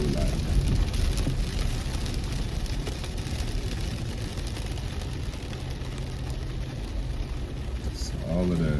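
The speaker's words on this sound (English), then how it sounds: "this is a whole lot of rain" Heavy rain pours down at night in a dense, continuous roar close by, with a voice talking over it.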